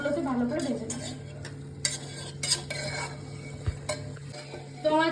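Rice stir-fried in a pot over high flame for chicken tehari, with a steady sizzle under repeated scraping and clinking of a spoon against the pot, plus a few sharper metal knocks.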